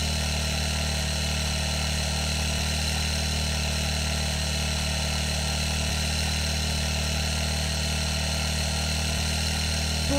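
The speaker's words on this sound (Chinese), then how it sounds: "上我们的电动车直接走" Electric scooter ridden in a horror video game set in a forest, a steady droning motor hum with constant tonal whine, loud and unchanging.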